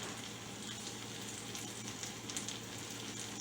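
Onions frying in butter in a pan, a steady close sizzle with fine crackling pops throughout, no voices.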